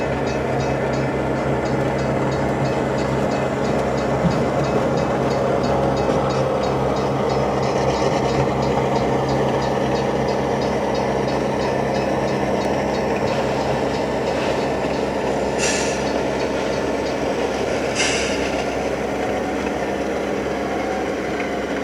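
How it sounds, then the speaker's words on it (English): A model train locomotive, a BN F-unit, runs steadily with a continuous mechanical whir and rattling, rhythmic clicking, and a couple of brief hissing bursts, with no talking. "I'm trying not to talk so that you can hear the engine sounds."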